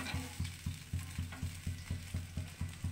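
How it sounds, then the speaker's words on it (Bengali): Poppy seed gravy for pabda fish boiling in a pan, a soft bubbling simmer under a regular low thumping mechanical beat repeating roughly four times a second, no talk. "পোস্তের ঝোলটা দেখুন ফুটে উঠেছে"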